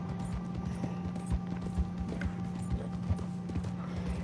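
Horse in Red Dead Redemption 2 with clip-clopping hooves in an uneven, running rhythm and a brief whinny, heard over steady game ambience with a few stronger hoof thumps.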